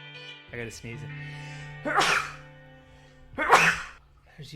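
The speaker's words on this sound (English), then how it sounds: "we just tried to record your sneezing" Two sharp, close sneezes burst out a second or so apart in a kitchen, each a sudden breathy blast, with brief voiced sounds and a dog nearby in between.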